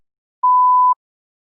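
A single clean electronic tone from a TOEFL speaking test prompt, one steady beep of about half a second, loud and isolated in silence.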